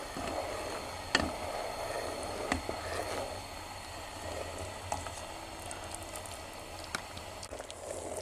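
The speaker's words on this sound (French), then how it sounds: "Ça y est, ça commence à frémir." Redcurrant jelly starting to simmer in a pot, a faint steady bubbling with scattered small pops and clicks at irregular intervals.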